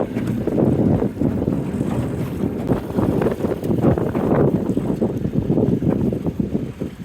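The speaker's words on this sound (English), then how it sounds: "Wind's pretty rough on us today" Rough, steady wind buffeting a fishing boat out on the water, a loud continuous low rumble of gusts across the microphone with no pauses throughout.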